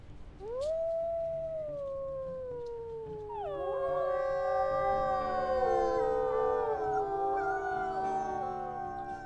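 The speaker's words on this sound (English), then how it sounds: "And our pack is howling back at us as well from home." Wolf pack howling in the WolfQuest video game: one long rising howl, then from about three seconds several overlapping howls join in a sustained chorus, fairly loud and with no talk.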